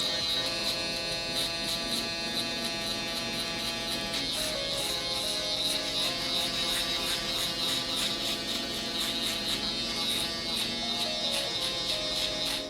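Electric shaver buzzing steadily and close while blending a drop fade haircut, a continuous high whine with slight pulsing as it passes over the hair, no talking.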